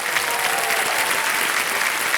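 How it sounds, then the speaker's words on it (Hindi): Studio audience applauding on the set of the Hindi quiz show Kaun Banega Crorepati, a dense, steady wash of clapping at even loudness throughout. "तालियां बजती रहनी चाहिए"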